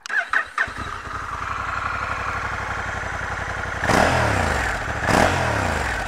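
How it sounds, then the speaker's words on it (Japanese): A Honda NT1100 motorcycle's engine cranks over after a few clicks and fires into a steady, close idle, with two sharp throttle blips near the end. "それではエンジンをかけてみましょう。"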